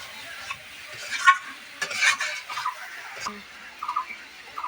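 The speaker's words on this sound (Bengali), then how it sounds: "এবার ভেজে রাখা আলুগুলো দিয়ে দিচ্ছি আলু দিয়ে আর মশলা দিয়ে ভালো মতন কষিয়ে নিচ্ছি" A spoon stirring fried potatoes into spiced masala in a pan gives soft, intermittent scraping and light sizzling in brief bursts, fairly quiet with no talking.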